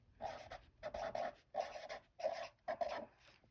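A pen or pencil scratches out a number model by hand, five or six short bursts of quiet strokes separated by brief pauses, close and faint.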